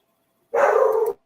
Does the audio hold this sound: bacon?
no